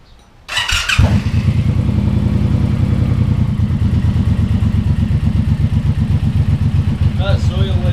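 A Suzuki Boulevard M109R motorcycle cranks, catches and settles into a loud, close, steadily thumping idle with a rapid even pulse.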